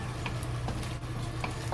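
Tofu simmers and sizzles in a sauce in a frying pan, a close continuous bubbling hiss with light ticking scrapes from stirring.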